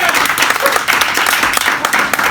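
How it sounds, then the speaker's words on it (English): Lively applause for volunteers at a Halloween improv comedy show, a dense, loud crowd clapping with a few sharp individual claps standing out, sustained throughout. "Let's give another round of applause for our volunteers."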